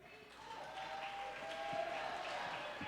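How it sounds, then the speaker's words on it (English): A crowd in Mount Vernon applauds and cheers for wrestler Buff Bagwell, faint scattered clapping with a rising whistle or shout, heard at a distance with voices mixed in. "Look at the crowd in Mount Vernon just showing their appreciation for Buff Bagwell"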